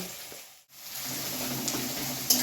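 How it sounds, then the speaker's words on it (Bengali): Chopped onions with salt sizzle and fry steadily in a hot pan while being stirred, a continuous close crackle with a brief dip at the start and a light scrape near the end. "পেঁয়াজটা একটু নাড়াচাড়া করে ভেজে নিই।"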